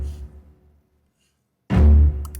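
A heavily distorted horror-music bass hit with the EQ switched off sounds in two bursts: a short rumble fading out, then after a gap of silence a louder booming, crushed low-end blast with gritty upper noise.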